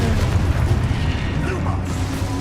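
A booming blast from the Confringo explosion spell in the Hogwarts Legacy video game, a loud low rumble that sustains across the moment, with a voice speaking over it.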